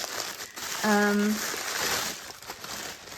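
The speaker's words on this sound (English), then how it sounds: "sorry about the rustling" Packaging rustles and crinkles close to the microphone in a continuous, uneven crackle, with a brief humming tone partway through.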